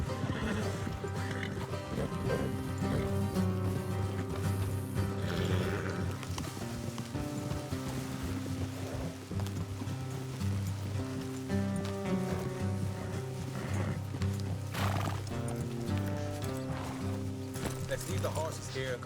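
Horses in Red Dead Redemption 2 clip-clopping steadily along a road with occasional neighs, under a continuous musical score and background ambience.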